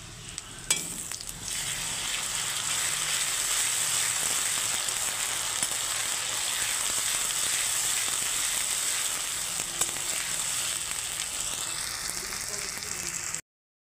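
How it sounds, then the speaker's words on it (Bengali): Ginger-garlic paste hitting hot oil in a pan while pangas fish cooks, a sharp burst of sizzle settling into a long, steady, close frying hiss with occasional stirring clicks. "এখন আমি আদা রসুন বাটা দিয়ে দিচ্ছি।"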